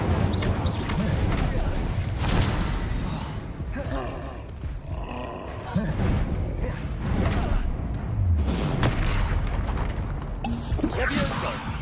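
Fiery spell blasts in the Hogwarts Legacy video game boom and crackle amid a dense, roaring battle din, with layered explosions and creature roars. A voice calls out spell names over the chaos.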